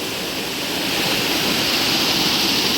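Rushing water flows steadily near a jungle cave, a loud, continuous broadband roar like a waterfall or fast stream, close by and unbroken, with no voices.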